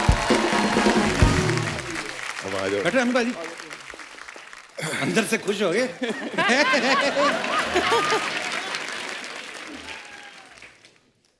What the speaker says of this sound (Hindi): शरद भाई और एमी पाजी के लिए जोरदार तालियां